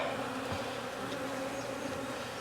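Honey bees buzz around an opened hive in Jacksonville, Florida, in a dense, continuous swarm drone that stays close and steady throughout, with no voices.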